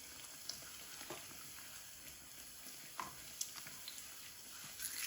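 Bread frying in hot oil in a pan, with a steady close sizzle, soft crackles and occasional louder pops, no voices.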